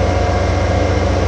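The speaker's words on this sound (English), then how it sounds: "So there's the train." A heavy, low train rumble in Farming Simulator 2015 drones steadily as it rolls past, with a constant mechanical hum and no talking.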